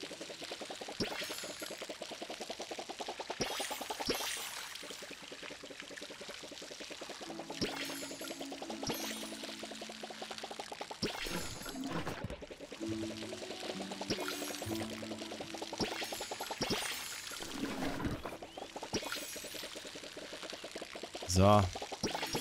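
A watering can pours water in the video game Palia, with soft splashing and trickling in several bursts under a voice talking throughout.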